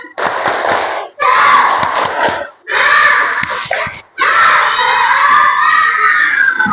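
Schoolchildren in a classroom shouting a spirited clapping chant together, loud and close, in several bursts separated by short pauses, voices dominating over any claps.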